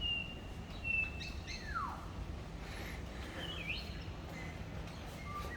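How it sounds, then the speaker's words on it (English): Birds chirp and whistle from a bird sanctuary on a rooftop in Majorca, scattered high calls and a falling trill rising above low outdoor rumble, fairly faint and somewhat distant, with no talking. "All the birds are singing."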